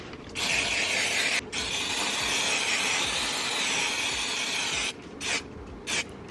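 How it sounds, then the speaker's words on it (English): Apple brand guard sprayed onto vachetta leather in a few test bursts, each a loud close hiss with short gaps and a quicker double spray near the end. "with this Apple brand guard. So let's just do a few test sprays."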